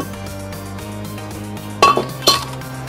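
Metal on metal as a front brake disc rotor is slid off the car: a few sharp clinks and scrapes over a steady low hum, with two louder clanks close together near the end.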